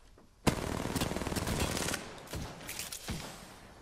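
Automatic gunfire in Apex Legends, loud rapid bursts opening with a sharp crack and rattling on in dense volleys, then sparser separate shots trailing off, no talk.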